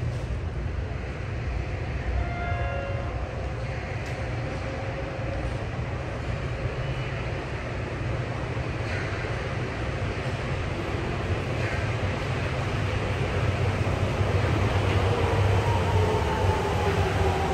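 A subway train bound for Makomanai rumbles into platform 1 at Asabu Station in Sapporo during track renewal work, a continuous low rolling roar with faint brake squeals, building slightly louder near the end.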